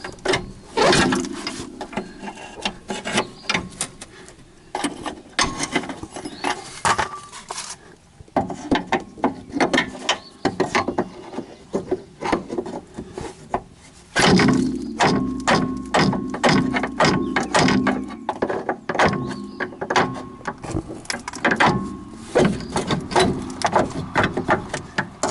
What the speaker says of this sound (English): Now you can finally work the control arm out.